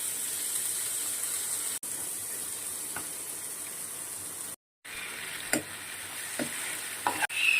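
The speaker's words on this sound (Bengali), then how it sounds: "এবার আমি দিয়ে দেবো কাজু পোস্ত বাটাটা" Cashew and poppy seed paste goes into a pan with chili, bay leaf and ginger-garlic paste, giving a steady soft sizzle and hiss with a few scraping stirs near the end, no talk.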